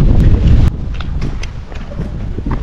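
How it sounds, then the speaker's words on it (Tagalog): Strong wind buffets the microphone outdoors on a walk in Istanbul, a heavy steady roar with louder gusts at the start, with no talking. "Sobrang lakas ng hangin."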